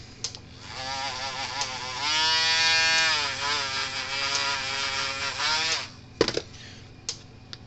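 A Dremel rotary tool spins up into a high, buzzing whine during a Gallagher BEV3 fence charger repair. The whine shifts pitch for several seconds, then cuts off, followed by a few sharp clunks.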